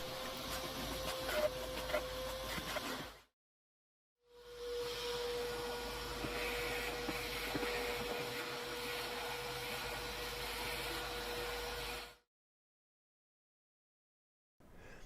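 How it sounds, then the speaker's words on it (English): A vacuum cleaner hoovers the interior of a Volkswagen T2 camper van, a steady whining drone that cuts out briefly, resumes for several seconds, then stops again. "The next stage was hoovering throughout the vehicle."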